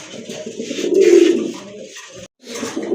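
Pigeons coo in soft, rolling bursts at a pigeon market, the calls swelling to a loud peak near the middle and trailing off after a short gap.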